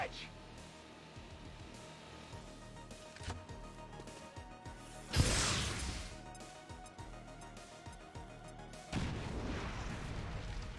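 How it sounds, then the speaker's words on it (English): A fire grenade thrown in XCOM 2 Long War bursts with a sharp, loud blast midway, its roar decaying over a second, followed later by a second burst of crackling noise amid quieter game sounds and talk. "Okay, so we just need a little fire grenade over there."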